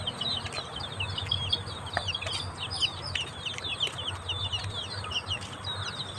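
Chickens cluck and chirp steadily in a busy outdoor yard, with other bird calls mixed in over a low background hum.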